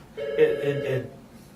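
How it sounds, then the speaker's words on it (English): A telephone rings in a brief burst lasting about a second, fairly close, then fades to quiet. "I can't believe your phone's ringing."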